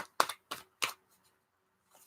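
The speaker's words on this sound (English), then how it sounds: "I'm just going to shuffle that again." Three quick papery riffles in a row, then a near-silent pause and a faint rustle at the end, like a deck of cards being shuffled close by.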